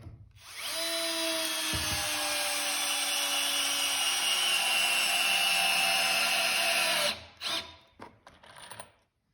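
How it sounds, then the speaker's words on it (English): A Bosch GSR 12V-140 drill/driver drives a screw into wood with a long, steady whine lasting several seconds, close by. It then stops and gives a few short bursts of driving. "We were trying to drive all these screws just about flush."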